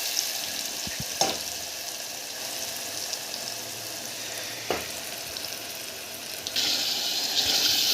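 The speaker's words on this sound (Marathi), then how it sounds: "पाच मिनिट छान मसाला फ्राय करायचा" Ground spice paste fries in hot oil in a pot for a crab gravy, giving a steady, close, broadband sizzle with a few sharp stirring clicks, louder and hissier toward the end.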